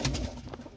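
Pigeons, some of them youngsters, cooing in a low soft murmur at close range, a brief continuous bout without talk.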